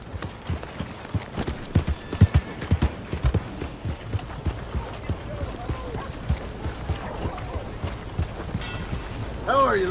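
Steady clip-clop of a horse's hooves on hard ground in the game Red Dead Redemption, regular and fairly close, over a soft outdoor ambience.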